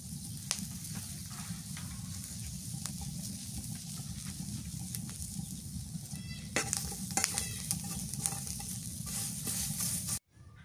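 Chopped onions frying and being stirred in a pan with mustard oil, a steady close sizzle with scraping stir strokes throughout, growing busier near the end before cutting off.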